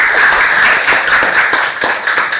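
Classroom students clapping together, a loud, dense patter of hands with a few sharper claps standing out, close and continuous.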